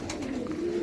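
A pigeon fancier's birds give a short, low, steady coo that rises slightly in loudness, close by and with no talking over it.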